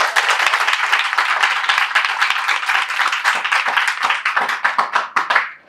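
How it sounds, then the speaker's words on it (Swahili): A crowd at a political meeting breaks into sustained, dense applause, many hands clapping loudly and steadily for several seconds before it thins out at the end. "Pigeni makofi."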